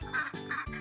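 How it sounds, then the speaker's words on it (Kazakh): A duck quacks three times in quick succession, each call nasal and close, with no other sound around it. "duck"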